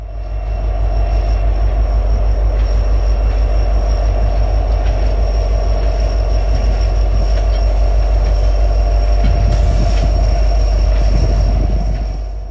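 A short three-car freight train hauling a high and wide heavy load rumbles past steadily with a loud, continuous low roar and faint metallic squeal, the wheels clacking under a constant mechanical drone.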